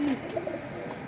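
A silver baga pigeon hen gives a short, close coo, one soft low murmur heard alone.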